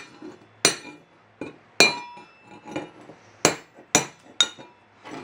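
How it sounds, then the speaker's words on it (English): A run of sharp metallic clinks from a hammer hitting a chisel during Datsun 521 ball joint work, struck in uneven bursts, close and loud with short ringing decays. "Even with the big chisel, it's a little easier with the hammer."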